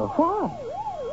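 Police car siren wailing in a radio drama, its rising and falling tone sweeping steadily, fairly close, while a voice speaks briefly over the start.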